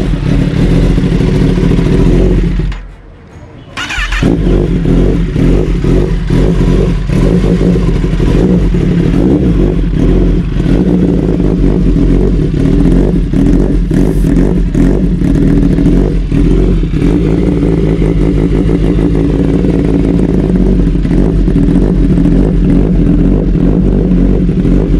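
A 2023 Kawasaki Ninja ZX-10R with an ECU flash, rated at 224 BHP, revs hard and loud for most of the stretch, dropping away briefly near the start before the engine roars steadily on again with repeated throttle blips.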